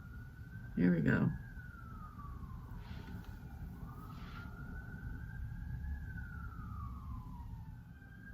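An ambulance siren passing wails up and down in the distance, rising and falling slowly, with a short burst of nearby talking early on.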